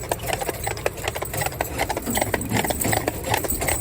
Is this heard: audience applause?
no